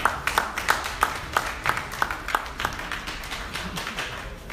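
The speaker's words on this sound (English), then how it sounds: "A round of applause for her." A conference audience applauds a speaker with sparse, distinct claps at a fairly even pace that thin out and fade toward the end.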